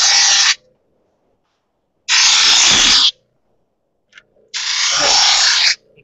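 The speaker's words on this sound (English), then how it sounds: "Or you can come to this light deburring wheel, which is a lower density and a finer grit." A light, low-density, fine-grit deburring wheel smoothing a metal edge runs in three close, loud bursts of about one second each, separated by silence.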